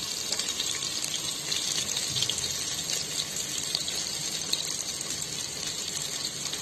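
Steady, dense crackling hiss of onions frying in hot oil, continuous and close, with no talking.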